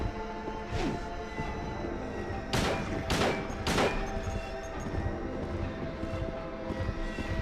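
Gunfire in the survival horror game Silent Hill 2 on PS2, several loud, sharp shots spaced about half a second apart, with a fainter earlier shot, over a low droning ambient hum.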